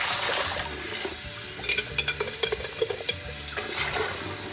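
Dissolved alum solution being poured into a pot of slightly warm wool, a close, steady watery splash and trickle with a brief run of sloshing, bubbling pulses in the middle.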